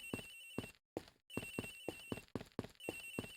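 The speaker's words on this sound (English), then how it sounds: "Sounds like the phone is up in the flight attendant's room." A telephone rings in the flight attendant's room in the Ace Attorney Investigations video game, a faint repeating trill in regular pulses with brief gaps, playing alongside tonal game sounds.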